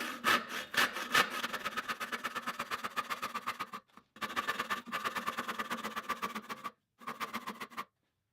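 A hand saw cuts through framing lumber for a bookcase, its steady back-and-forth strokes rasping close by in long runs, broken by two brief pauses.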